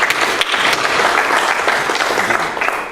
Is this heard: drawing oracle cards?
no